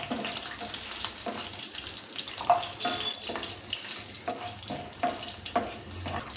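Lentils, dried chillies and tamarind dry-roasting in a pan for kollu thuvaiyal, giving a steady low sizzle with scattered crackles and scraping stirs, close and continuous with no talk.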